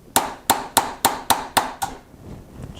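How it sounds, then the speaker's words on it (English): A CZ83 pistol pin being driven through with seven sharp, evenly spaced hammer strikes, close and loud, each ringing briefly before the next, then quiet handling noise. "Just press down and give it a couple whacks and it should go through."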